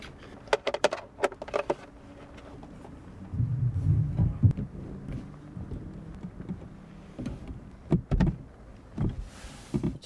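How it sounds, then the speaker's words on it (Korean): Car power window motor whirring as a driver opens the window on a warm day, a low steady hum lasting a few seconds, with a few clicks and thumps from inside the car around it. "아, 창문 좀 잠깐 열어둘게요."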